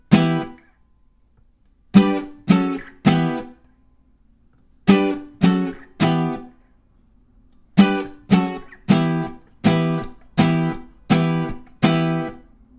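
An acoustic guitar strums a repeating chord progression from a song in sharp, evenly spaced strokes, grouped in short bursts separated by brief silences.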